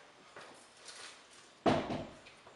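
An anthracite aluminium bifold door panel swung open onto its magnetic catch: faint shuffling and light taps, then one sharp clack and rattle as it meets the catch, fading afterward.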